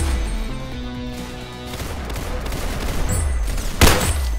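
Gunfire in the video game Arsenal comes as loud, rapid bursts with heavy low booms, a rattling fusillade running throughout and peaking in one sharp crack near the end.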